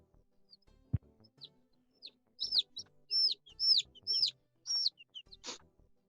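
Birds chirp outdoors in a lively run of bright, repeated calls, several close and loud, following a single low thump, with a brief rasping note near the end.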